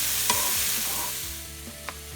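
Apples and garlic stirred in a frying pan, with a steady close sizzle and a few clinks and scrapes of the utensil against the pan.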